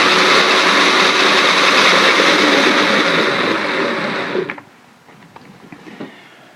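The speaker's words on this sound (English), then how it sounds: "At full speed, about 14 revolutions per second, just under 900 RPMs." A homemade rotating field generator spins at just under 900 RPM, giving a loud, steady high-pitched whirring hum that cuts off abruptly partway through, leaving a quiet room with faint clicks.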